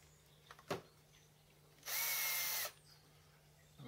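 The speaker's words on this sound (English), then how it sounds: "just mount this in a cordless drill" A cordless drill spins a milling machine spindle part held with its nut on, giving one loud, steady whine of under a second that starts and stops abruptly, with a short tool knock just before it.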